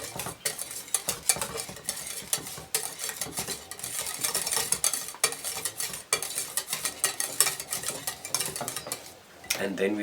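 Vanilla essence is stirred into a velvet pudding mixture in a pot, with repeated clinks and scrapes of a utensil against the pan over a faint simmering hiss, close and steady throughout.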